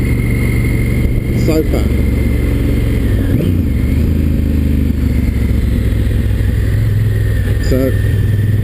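2016 Honda Africa Twin motorcycle ridden on the road, its engine humming steadily and loudly up close under wind noise, with brief shifts in pitch, while a rider talks over it.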